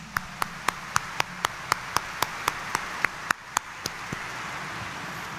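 A congregation at a Sunday church mass claps in a slow, even rhythm, about fifteen sharp, distinct claps in unison that thin out toward the end over a faint room background.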